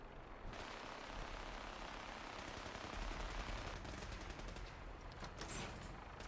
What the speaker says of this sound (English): You can see them shooting right there.